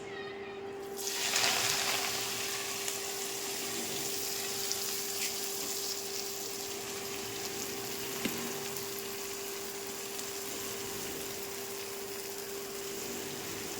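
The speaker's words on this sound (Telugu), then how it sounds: "ఇది మంచిగా వేయించుకుందామండి" Gongura leaves fry in hot oil with a steady, gentle sizzle and crackle, left over from frying dried shrimp, heard close up at low volume with a few faint clinks.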